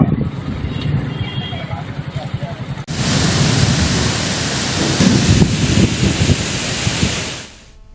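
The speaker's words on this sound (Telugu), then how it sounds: "గన్నవరంలో ఉరుములు మెరుపులతో కూడిన వర్షం కురుస్తోంది" Thunderstorm with heavy rain in Gannavaram, Andhra Pradesh: a steady loud roar of downpour with rumbling thunder that swells sharply partway through and persists, with faint background voices early on.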